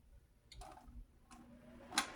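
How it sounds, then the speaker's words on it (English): A home fireplace kicking in, giving a few soft, irregular ticks and clicks spread out over quiet room tone, with one sharper click near the end. "you might hear my fireplace kicking in every once in a while"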